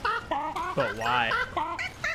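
Chickens clucking in a video game, a run of close, loud, rapid clucks with a drawn-out squawk in the middle, all bird sound without other noise.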